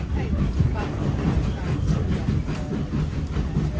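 Heritage steam railway train on the Lakeside & Haverthwaite line, heard from inside a carriage as a steady low rumble of wheels on track with faint rhythmic clatter, continuous throughout, with a little speech mixed in.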